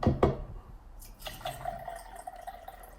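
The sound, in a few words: egg placed into a cup of water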